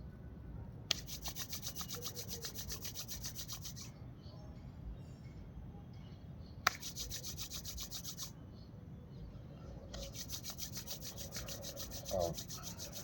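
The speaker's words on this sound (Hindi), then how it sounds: "हाथ को रगड़ करके हम लोग आँख को हल्का सा सेकेंगे।" Palms rubbed briskly together in bursts during a yoga session, a soft dry rasping that comes in three long stretches separated by short pauses, close and fairly quiet with no talking.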